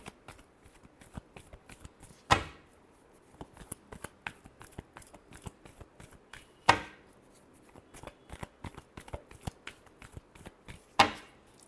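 Tarot cards are shuffled by hand, with soft quiet riffling taps punctuated roughly every four seconds by a sharper, louder riffle-and-bridge burst, close up and with no talking.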